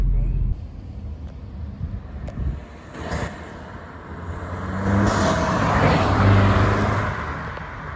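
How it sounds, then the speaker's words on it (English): Alfa Romeo Giulia fitted with a BMS intake passes by outdoors, its engine note swelling from a low rumble to a loud, close peak and easing away, with a brief voice heard early on. "we're gonna do drive-bys real quick so you guys can hear it from like a second person, like a bystander"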